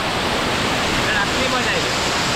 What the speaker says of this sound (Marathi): चिंचोली वॉटरफॉल